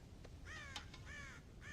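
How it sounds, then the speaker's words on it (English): Crows cawing at a farm silo in Red Dead Redemption, several harsh, nasal caws in quick succession, fairly close, over a low background rumble with no talk. "God damn crows!"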